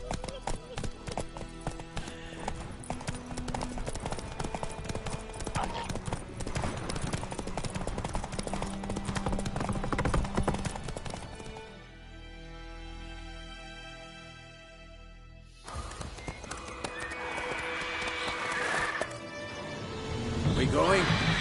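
Roach, Geralt's horse in The Witcher 3, clops steadily on its hooves under a busy music and effects bed, with a brief quieter stretch midway. A voice speaks over the scene.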